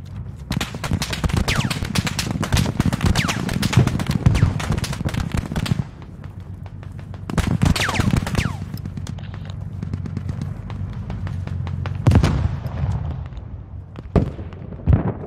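A machine gun fires in bursts in the military shooter Squad, with long rattling volleys in the middle distance, pauses between them and scattered single shots, while a player talks over the action.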